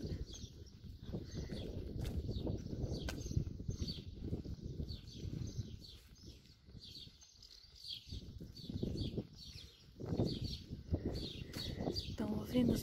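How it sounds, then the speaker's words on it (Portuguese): Small birds chirp in repeated high tweets across a street in Belmonte where houses are being built, the calls fairly faint and steady beneath someone talking through most of the clip. "Estão ouvindo os passarinhos, gente?"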